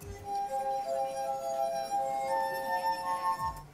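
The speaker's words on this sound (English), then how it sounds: "running your finger around the rim of a glass at just the right speed will produce sound" A finger rubbed around the rim of a glass makes a sustained, pure ringing tone that holds steady and shifts pitch slightly midway. It is fairly faint and heard alone.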